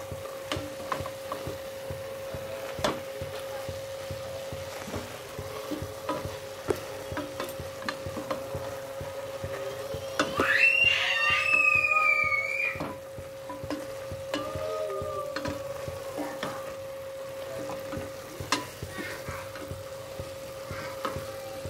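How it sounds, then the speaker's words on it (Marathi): Fenugreek (methi) fries in a pan with a low sizzle and scattered spoon taps and scrapes, while a steady tonal hum runs throughout and a brief chirpy whistle-like sound rises midway. "ही जी आहे मेथी थोडीशी अशी इकडे फ्राय करायची व्यवस्थित त्याच्यामध्ये"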